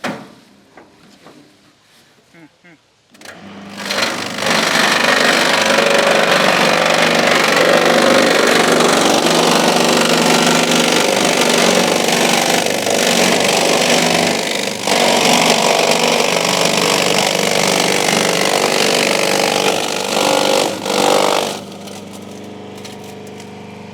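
A Kalki chaff cutter starts up and chops five kilograms of heavy, thick fodder, a loud, steady motor-driven grinding roar that holds for nearly twenty seconds before easing off, with quiet handling noises before it begins.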